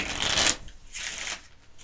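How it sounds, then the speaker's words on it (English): Two quick riffle shuffles of a deck of cards, crisp flapping bursts separated by a short pause, close and fairly quiet with no talking. "I'm just gonna shuffle a bit while we wait for Kalle to decide"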